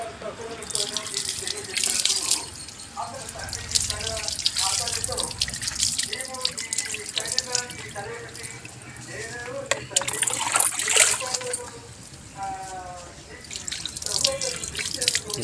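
Tap water runs and splashes as chicken is rinsed by hand, with intermittent drips and gushes while a person talks over it.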